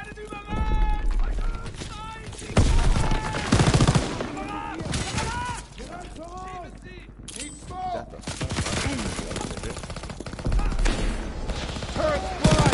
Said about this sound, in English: MGs are hitting us!